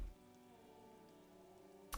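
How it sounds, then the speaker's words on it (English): Steady rain falls in the detective game Disco Elysium, a soft continuous patter lasting about two seconds with no voices, ending in a brief thump. "now my street smarts is telling me it's fucking raining"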